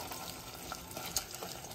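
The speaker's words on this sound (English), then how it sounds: "now we're going to bring this to a boil and let it boil for a few minutes." A pot of liquid heating on a stovetop toward a boil gives off a faint, steady sizzling hiss with soft bubbling crackles throughout, with no voices.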